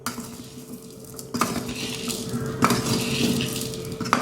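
A slotted metal ladle works back and forth through a batch of Andhra-style avakkai mango pickle, giving soft scraping and clinking against the vessel, with a few sharper knocks at intervals and no one talking.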